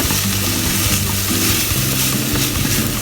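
Mushrooms, garlic and onion sweat in olive oil in a pan, a steady close sizzle and bubbling with occasional stirring, continuous and fairly loud.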